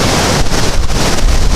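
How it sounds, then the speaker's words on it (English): Hurricane-force wind during a hurricane in Jacksonville, Florida, roars loud and continuous, buffeting the microphone in heavy rumbling gusts with no voices. "that wind is so ridiculous right now"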